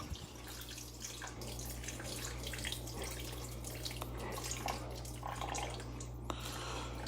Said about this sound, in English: And now we're going to add in our 2 cups of water.